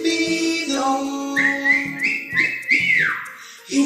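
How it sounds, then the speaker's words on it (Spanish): A melodic whistled phrase of rising and sliding notes, clear and close, over a soft background of steady music. "Saludo con silbido"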